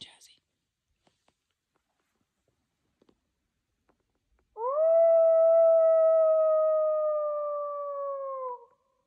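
A hunter's call imitates a female wolf howl: one long, loud, sustained tonal wail that rises and holds steadily for about four seconds before dropping off, following near silence with a few faint clicks.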